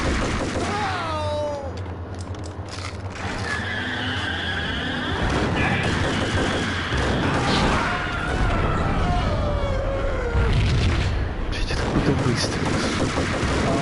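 Dense, continuous gunfire and action noise from the Max Payne video game on PS4, with bursts of shots layered over skidding, engine-like rumble and chaotic effects throughout.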